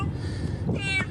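A cat meows once, short and fairly close, over a steady background of rushing floodwater.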